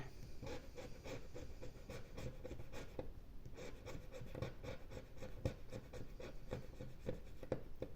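A scratch card being scratched, a steady dry rasping and rubbing close to the microphone with repeated short scraping strokes throughout.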